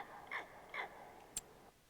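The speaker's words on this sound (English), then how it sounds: "Well, that's a loud bird out there." A bird in the Farming Simulator 25 countryside gives two raspy, crow-like caw calls, fairly faint and at a distance, then a brief sharp click against quiet ambient background.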